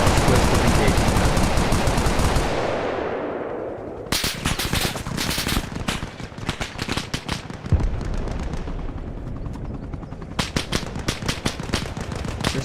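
Video game battle gunfire: dense, loud automatic bursts and rapid shots crackle close by, pausing between volleys, with an earlier sustained roar of noise fading out.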